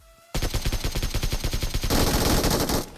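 Automatic weapon fire in a battle royale video game, a loud rapid string of shots starting abruptly after a short pause, shifting into a denser, overlapping volley before cutting off.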